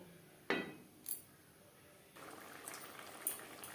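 Fish curry gravy simmers quietly in a pan, a soft bubbling hiss that grows fuller after a pause, with a few light clinks of a utensil against the pot.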